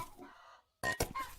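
Chickens cluck in a henhouse in a video game trailer, with a brief drawn-out call, a short pause, then a close burst of loud clucks and squawks.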